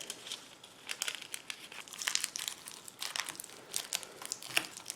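Wood shavings and resin-rich fatwood material crinkle and crunch as they are folded up and packed tightly for a fire, a close, continuous run of dry crackling with sharper bursts, no talking.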